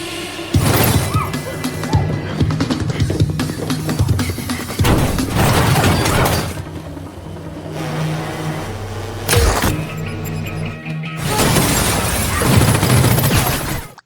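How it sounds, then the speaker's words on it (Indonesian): Bulletproof glass is shattered by explosive bullets fired from a drone: loud, dense bursts of smashing and crashing repeat across the stretch, separated by short lulls. "Drone tersebut akhirnya menembakkan peluru peledak untuk menghancurkan kaca anti peluru mereka."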